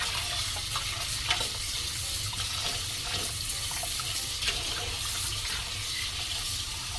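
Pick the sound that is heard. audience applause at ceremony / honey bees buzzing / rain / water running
water running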